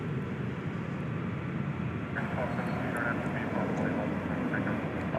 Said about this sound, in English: It is an Embraer 175. It's getting away from us,